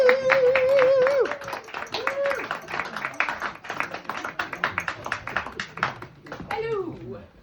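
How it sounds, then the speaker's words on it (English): An audience claps for the next act at a show, rapid scattered clapping up close, mixed with voices talking and a child's speech. "clap your hands and stamp your feet for the next act"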